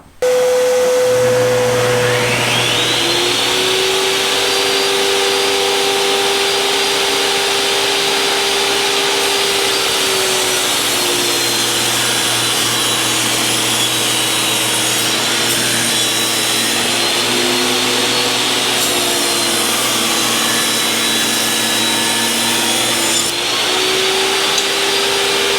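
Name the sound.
table saw ripping thin strip of wood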